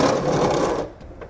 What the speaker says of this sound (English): Now I'm going to be using a 10mm socket to remove these two bolts.